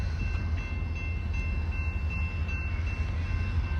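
A train rolls through Ardmore station in Oklahoma, a steady low rumble with a faint high tonal whine above it, continuous and moderately distant.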